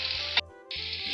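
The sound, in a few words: onion, leek and bell pepper frying in hot oil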